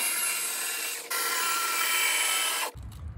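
Continuous loud rasping and cutting of a C5 Corvette dashboard along a trim line, steady abrasive friction for nearly three seconds with a brief break, then stopping abruptly.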